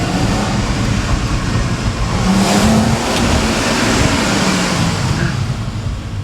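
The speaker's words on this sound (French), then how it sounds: "Il faut vraiment être à 3000 tours pour qu'elle commence à chanter un peu." A Chrysler Crossfire with its Mercedes V6 engine pulls hard on the road, a loud steady roar with a rising engine note that swells and eases, no voices over it.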